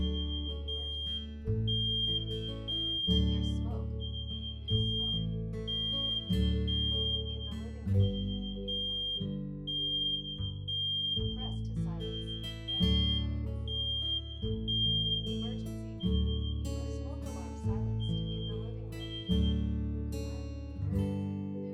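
Google Nest Protect wired smoke and carbon monoxide alarm sounding during a test, repeating loud shrill electronic beeps in a steady rhythmic pattern over about twenty seconds, with no talking.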